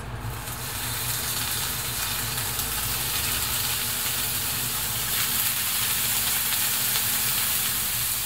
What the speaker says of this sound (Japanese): フライパンが熱くなったら焼きます。